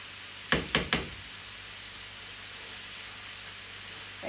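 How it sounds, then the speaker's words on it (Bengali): A potato fry (aloo bhaji) is stirred in an uncovered pan: three quick knocks of the utensil against the pan come first, then a soft, even frying hiss continues alone. "একবার ভালো করে নেড়ে দিই এই আলু ভাজিটা"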